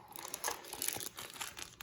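Gift wrapping paper crinkles and rustles close by in short, uneven bursts of crumpling.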